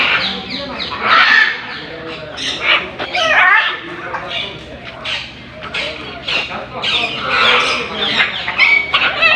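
Macaws, parrots and other birds squawk and screech in a safari park aviary, a dense, continuous chorus of harsh, overlapping calls at close range.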